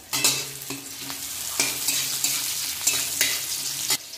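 Dried red chili fries in a Bengali spice tempering for pumpkin greens, oil sizzling steadily while a spoon stirs and scrapes the pan in repeated sharp strokes, close and fairly loud.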